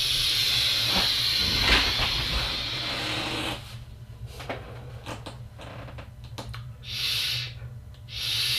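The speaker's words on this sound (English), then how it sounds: "Let's give it a vape and see how she performs." FreeMax Starre tank on an eLeaf iStick at 50 watts with a 0.6-ohm coil, a close airy hiss of vapor during a long draw, followed by shorter puffs and breathy exhales.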